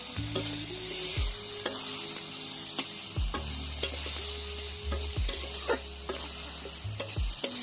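Prawns cooking with potato, pointed gourd, ridge gourd and ginger-cumin-chilli paste in a pan, giving a steady sizzle broken by sharp spoon clinks and scrapes against the pan, with background music playing throughout.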